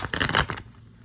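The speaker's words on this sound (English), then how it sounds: "Let's see if I can shuffle these," A Marvel tarot card deck being shuffled by hand, a quick burst of close papery riffling and flicking that fades after about half a second into quiet.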